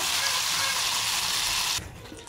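Shrimp frying in a pan give a loud, steady sizzle that cuts off sharply near the end as they are taken off the heat, leaving a faint hiss.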